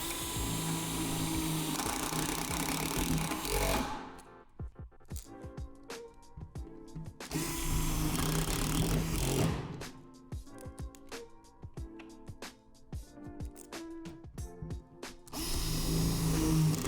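A power driver sinks self-tapping screws through a metal swing set frame to secure its panels, giving long, loud, steady whirring bursts broken by quieter stretches of rattling and clicking, up close with no talking.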